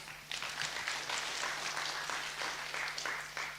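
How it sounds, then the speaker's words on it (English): Faint applause from an audience at a SACCO CEOs' roundtable, a scatter of individual claps merging into a light, even patter over a low electrical hum, heard at a distance. "Ted deserves another clap."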